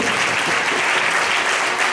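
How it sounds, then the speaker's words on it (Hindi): A church congregation at a communion and healing service claps loudly for Jesus Christ. The dense applause is close and sustained, with no talk over it. "एक बार जोरदार हमारे यीशु मसीह की ताली बजाएं।"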